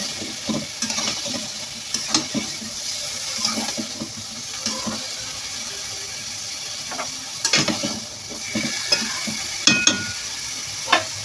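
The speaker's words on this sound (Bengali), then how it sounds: "এখন আমি বেগুন আলু দিয়ে আলু বেগুনটা ভালো করে কষিয়ে নেব।" Potatoes and eggplant fry in spices in a pan with a continuous sizzle, broken by repeated stirring scrapes and clatters that come in irregular bursts.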